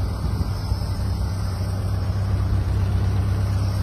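A 1928 Ford Model A roadster's four-cylinder engine idles steadily with a low, even rumble throughout, close and fairly loud, and no one speaks over it.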